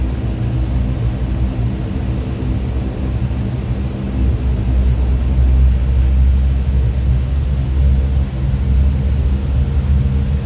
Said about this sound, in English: Here, we're taxiing on the main runway out to the end to begin our takeoff roll.